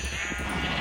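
A brief, muffled sheep bleat from Minecraft with the Better Than Wolves mod, a single short call heard alone over steady game background noise.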